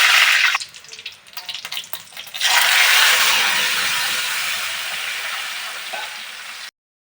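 Two bay leaves hit hot oil with mustard, garlic and chili paste, first with crackly spitting, then a loud, steady sizzle that slowly fades before cutting off.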